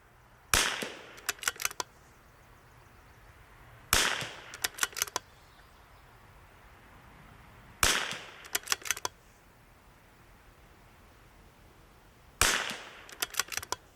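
Rimfire rifle shots ring out at a target in four separate bursts, each a sharp crack quickly followed by a few more shots, with quiet gaps between them and no talking.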